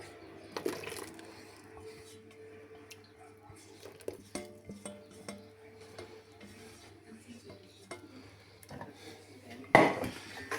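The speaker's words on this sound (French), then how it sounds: "On mélange bien." A whisk or spoon works through clafoutis batter of sugar and melted butter in a bowl, quiet scraping and rubbing with scattered clinks against the sides and one louder knock near the end.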